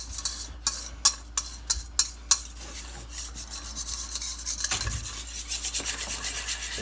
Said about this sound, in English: So we're going to mix it up.